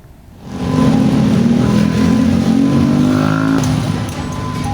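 A black SUV speeds along S. Parman road in West Jakarta before crashing into a concrete busway separator. The engine roars up quickly to a loud, steady, close drone, with no voices.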